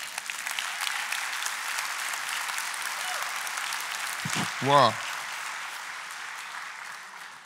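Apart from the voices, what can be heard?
congregation applause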